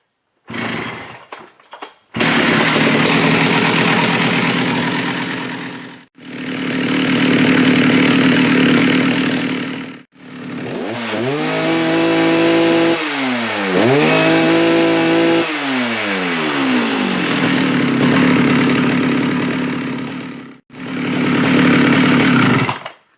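A chainsaw fitted to run higher chain speed, revved repeatedly to a loud, sustained high-RPM scream, with short pauses and several rising and falling revs between bursts.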